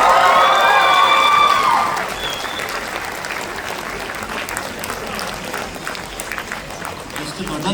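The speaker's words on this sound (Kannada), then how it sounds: "ತಾಂತ್ರಿಕ ತಂಡಕ್ಕೆ ಜೋರಾದ ಚಪ್ಪಾಳೆ ಕೊಡಿ." Loud, dense applause with some cheering from a theatre audience for the technical crew of a college play, starting strong and settling into steady clapping.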